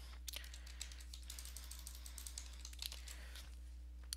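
Faint typing on a computer keyboard while filling in an HTML5 web form: scattered soft key clicks in irregular bursts over a steady low electrical hum, with no talking.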